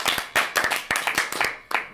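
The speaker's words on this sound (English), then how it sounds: "Let's give some applause." A small group claps after a social deduction party game round, scattered hands striking in uneven bursts over about two seconds, fairly close and moderately loud.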